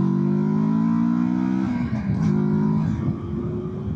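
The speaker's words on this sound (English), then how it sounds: "Comfy, rides good, leans over nicely, makes nice little sound." A 2024 Kawasaki Versys 650 twin-cylinder motorcycle engine on the move, a loud, steady drone that shifts in pitch midway as revs change, with wind rush and no voices.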